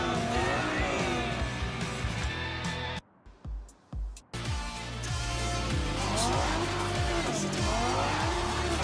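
A fast car driven in Cyberpunk 2077, its engine roaring steadily with tire squeal and skidding through turns, briefly cutting out before surging back, loud and close.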